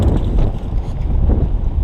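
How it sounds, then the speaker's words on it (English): Strong wind buffets the microphone on a boat during bass fishing, a loud continuous low rumble with gusty swells and no speech. "It's so windy."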